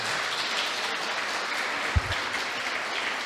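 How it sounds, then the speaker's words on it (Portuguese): A church congregation applauds in a dense, steady wash of clapping that fills the room throughout, with one brief low thump near the middle. "Vamos aplaudir a Jesus."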